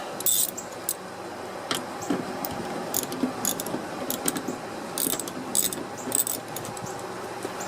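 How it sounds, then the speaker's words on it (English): A ratchet with a 12 mm socket works on Toyota lift gate bolts, giving quick metallic clicking bursts and light jangles at close range, fairly quiet, with no talking. "Get your 12 millimeter socket back on."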